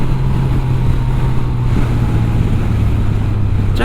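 A Yamaha FJR1300 sport touring motorcycle runs at a steady low engine drone while riding, with strong wind rush over the microphone throughout and no talk.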